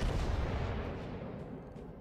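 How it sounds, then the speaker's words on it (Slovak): Naval artillery from the battleship Cristoforo Colombo in a warship video game: a heavy, rumbling salvo fades into a long, booming decay, loud and dense at first, then tapering off. "to Kolombo má 4x4, to znamená 16 granátov vystrelí smerom na Yamato"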